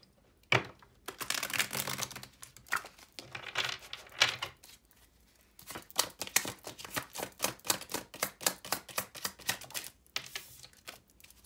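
Tarot cards are shuffled repeatedly, rapid riffling bursts and soft slaps in quick succession, close and crisp with short pauses between rounds.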